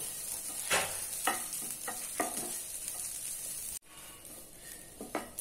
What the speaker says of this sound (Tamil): இப்ப 1 கப் துருவன தேங்காய லைட்டா ஈரப்பதம் போற வரைக்கும் ஃப்ரை பண்ணிக்கலாம்.